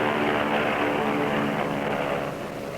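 Propeller transport planes of the Berlin airlift fly close by with a loud, steady, droning roar. The engine noise fills the whole stretch and eases off slightly near the end.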